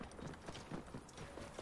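Steady clip-clop of horse hooves in the video game Assassin's Creed Origins, a quick regular rhythm of soft thuds at moderate distance, with no talking.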